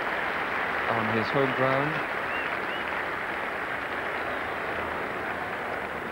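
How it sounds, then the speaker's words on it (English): A cricket crowd at Old Trafford gives Mike Atherton warm, sustained applause during an England v West Indies one-day international in 1991. The clapping forms a steady wash throughout, and a commentator speaks briefly over it. "Fulsome applause for Mike Atherton"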